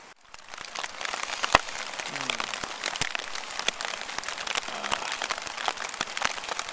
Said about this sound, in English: Raining pretty heavy right now.